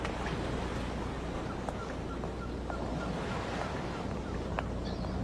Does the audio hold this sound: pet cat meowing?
no